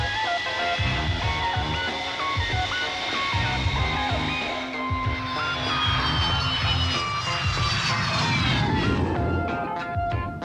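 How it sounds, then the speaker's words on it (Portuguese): MiG-23 fighter jet engines drone and whine continuously, with tonal harmonics shifting and sweeping as the aircraft noise builds toward a louder, rougher roar. "Mais MiG chegando, um regimento inteiro"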